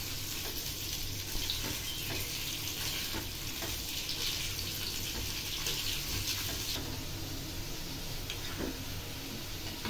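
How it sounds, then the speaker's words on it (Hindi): Potatoes fry in hot oil in a kadhai, giving a steady, close hiss and crackle of sizzling with occasional stirring scrapes, continuous for about ten seconds. "तेल गर्म हो गया है, आलू को हम फ्राई कर लेंगे"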